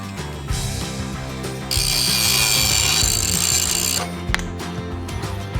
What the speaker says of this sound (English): the proper angle had to be cut out of the bulwarks